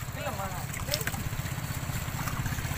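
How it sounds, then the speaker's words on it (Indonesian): Sea waves slap and slosh against a wooden fishing platform out on the water, a continuous churning wash with low rumbling surges and splashes, close and fairly loud. "Wih, ini ombaknya, teman-teman."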